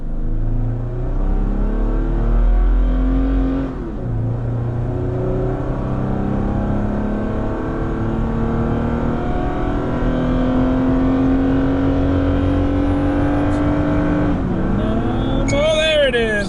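A 2021 Toyota Tacoma pickup accelerating hard while towing a 5,000-pound trailer, the engine droning and rising through gear shifts with loud continuous cabin noise, voices heard briefly near the end.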